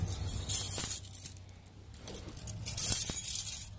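Car keys for a 2001 Toyota Highlander jangle and clink in two bright bursts, near and fairly loud, as the key slides into the ignition, with a quiet pause between.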